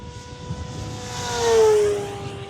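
An ElectroStreak electric RC plane flies at full throttle, a thin steady motor whine with a rising tone that swells as it passes nearby and then fades.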